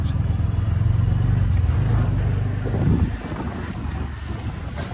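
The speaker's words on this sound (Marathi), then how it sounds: "भावाने सेकंड गिअरवरती गाडी उचलली आहे." An auto rickshaw in second gear on an MIDC road, its engine a steady low rumble that swells for about three seconds, then drops slightly as it rolls on, with wind buffeting the microphone throughout.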